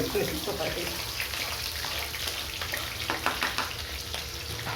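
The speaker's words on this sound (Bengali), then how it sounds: "এবার এই গরম তেলে পেঁয়াজ দিয়ে দেবো।" Steady crackling sizzle of onions frying in hot oil, continuous and close, with voices talking over it.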